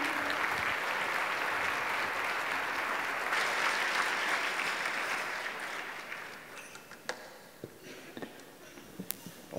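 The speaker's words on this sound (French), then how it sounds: "On l'accueille et on l'applaudit." Audience applause welcoming a performer at a breakfast campaign launch: full, loud clapping for several seconds, then thinning and fading out into a few scattered claps near the end.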